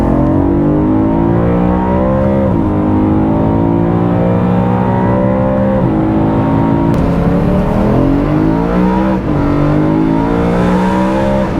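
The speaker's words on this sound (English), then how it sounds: "you can hear the engine really roar and gasp for air as you're getting on it" BMW M3 Competition E92 engine roaring and gasping for air under hard acceleration, heard from a couple of feet behind, with repeated rising revs and shifts, loud and continuous.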